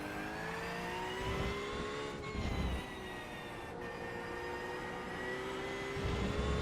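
Race car in the iRacing video game accelerating at partial throttle, a steady rising engine whine with smooth tonal harmonics, continuous and fairly close, with no talk.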